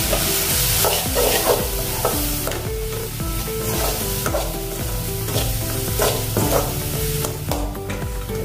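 Spices for a stuffed raw tomato dish being mixed, salt, red chilli powder and garam masala, with steady close scraping and stirring sounds over a constant sizzling background, no voices.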